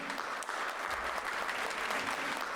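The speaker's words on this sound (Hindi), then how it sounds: "आलिया, तालियां बजाओ इनके लिए।" Steady, dense applause from a crowd, even in loudness throughout and without any pauses.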